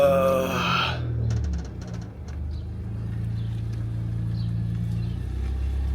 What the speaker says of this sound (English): It might just be rubbing fender liner.